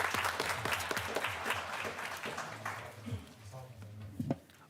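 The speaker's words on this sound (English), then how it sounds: "Let's give them a round of applause." A board meeting audience gives faint, scattered applause for an assistant principal and principal, quiet and thinning out while voices talk over and around it.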